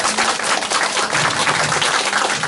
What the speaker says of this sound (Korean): 제가 하나, 둘, 셋 하면 뜨거운 박수